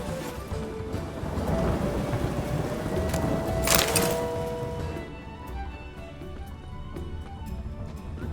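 Steady rain with a low thunder rumble in The Witcher 3, a continuous dense wash that swells briefly and then settles, with game music faintly underneath.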